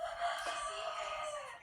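Chickens at a farm during their morning feeding, a short rooster-like crow and clucking, fairly faint and heard alone.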